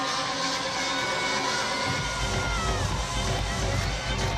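Crowd cheering and shouting fills a college gymnastics arena during a meet, a steady roar of many voices that swells slightly midway, with a commentator's voice faintly underneath.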